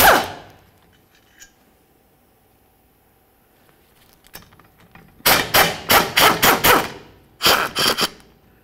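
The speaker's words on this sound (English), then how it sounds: "continue on to removing our four mounting bolts that hold this in place. We'll be using an 11 millimeter" Rapid metallic clicks ring out in quick bursts near the end, an 11 millimeter wrench or ratchet working the four center bearing mounting bolts under a 1999–2006 Chevrolet Silverado 1500 driveshaft, after a long quiet stretch with a few faint knocks.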